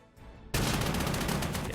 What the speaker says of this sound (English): Artillery. Fire on these full infantry squadron here.